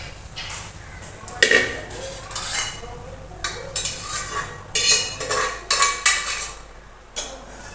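Chana dal tipped into a cooking pot for a home-style sabzi, with scattered clattering pours and spoon-on-metal knocks that come in irregular bursts at close range, and no voice over them.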